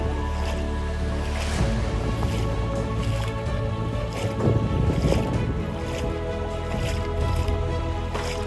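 Feet wading through water in a flooded paddy field at the start of rice planting season, continuous squelching and sloshing steps close by, loud and steady.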